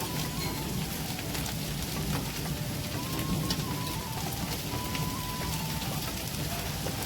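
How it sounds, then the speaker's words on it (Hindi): Very heavy monsoon rain pours down in a dense, constant roar of drops hitting surfaces, loud and unbroken from start to finish, with no voices. "ये बहुत ही तगड़ी बारिश।"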